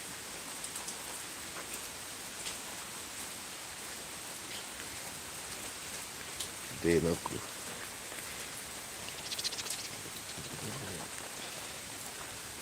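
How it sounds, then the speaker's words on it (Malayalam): Heavy rain pours steadily in a garden planted with banana, spinach and chili seedlings, a dense, even hiss close by, with a voice speaking briefly partway through. "സൂപ്പറായിട്ട് പതിനെട്ട് മിനിറ്റ് അടിപൊളി മഴ കിട്ടി"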